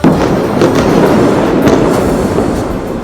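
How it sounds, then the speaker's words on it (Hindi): Rapid bursts of blasts and crackling from missile and rocket strikes on Gaza buildings, a loud, dense, continuous barrage with no speech over it. "इजराइल की मिसाइलें और रॉकेट लगातार गाजा की इमारतों पर गिरते रहे और धमाके होते रहे"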